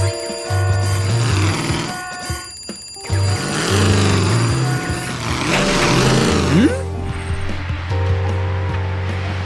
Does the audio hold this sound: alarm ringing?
yes